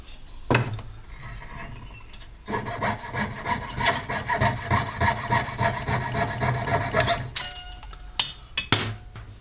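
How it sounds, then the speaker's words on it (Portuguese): A jeweler's saw frame (Ourives Rock) cuts metal with a rapid, continuous rasping stroke rhythm for several seconds, close and fairly loud, with a few sharp clicks and taps at the start and end. "Vou usar aqui meu arco Ourives Rock."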